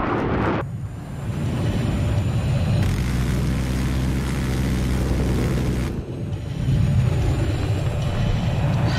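A helicopter in the video game Battlefield 3 thrums as a steady, loud low rotor drone that swells in the middle stretch, with engine rumble continuing throughout and no voices.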